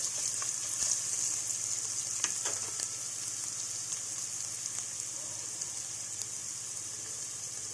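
Ginger garlic paste and turmeric fry in hot oil for an arbi masala curry, giving a steady close sizzle with a few faint stirring scrapes and no voices.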